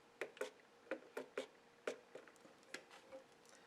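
A spray bottle spritzes water onto watercolor paper in a quick series of about nine short, faint hissing bursts, some in close pairs, with quiet gaps between.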